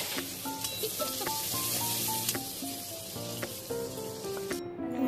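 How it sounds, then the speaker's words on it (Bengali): Raw onion frying in hot oil with whole garam masala and bay leaves sizzles softly and steadily up close, with the scrape and clack of stirring now and then. "এবার এর মধ্যে কিছুটা পরিমাণে কাঁচা পেঁয়াজ দিয়ে ভালো করে ভেজে নেব।"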